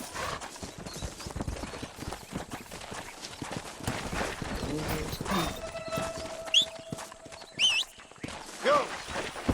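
Horse hooves clip-clop steadily in the Red Dead Redemption video game, a rhythmic trot at moderate distance with game sound effects and occasional whinnies mixed in, while someone talks at times over it.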